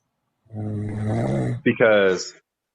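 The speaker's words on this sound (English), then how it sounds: "now I hear her snoring" A drawn-out, rumbling snore with a deep steady buzz, followed by a short snort and a rougher, raspy exhale, close and fairly loud.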